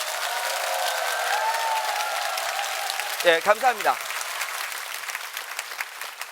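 Loud, sustained applause from an audience at a seminar, filling the whole stretch while someone briefly speaks over it near the middle.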